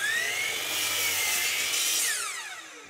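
A saw cuts a piece of reclaimed wood in half for an end grain backsplash, the board braced against a fence; a steady, loud whining cut runs throughout, tailing off near the end.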